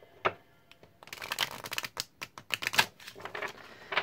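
A deck of cards riffled and bridged in several quick bursts, crisp papery flutters and snaps close by, with short pauses between, no voices.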